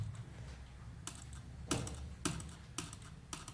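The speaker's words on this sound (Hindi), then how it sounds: "देखो मैं डबल क्लिक करूंगा," Left mouse button clicked on a computer while working in MS Word, giving a handful of sharp, quiet clicks spaced roughly half a second apart, close up, with no talking.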